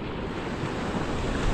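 Ocean waves break in a steady wash of surf mixed with wind noise, loud and close, continuous for the short stretch.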